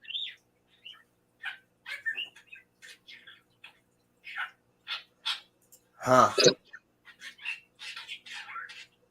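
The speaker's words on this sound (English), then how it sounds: "Yeah, I have birds. That's what you're hearing." Pet birds chirp indoors, short bright tweets scattered across the room, with one louder burst of a voice partway through.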